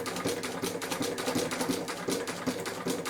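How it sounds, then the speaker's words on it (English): An industrial sewing machine used for outdoor gear stitches slowly, giving a steady, dense run of rapid mechanical ticking at close range with no pauses. "Foot down, and we can set off sewing as slow as we want."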